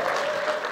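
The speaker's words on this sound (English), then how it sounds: "And so you can give yourselves a hand clap." An audience bursts into brief, dense hand-clapping applause in a church setting, loud and continuous for under a second.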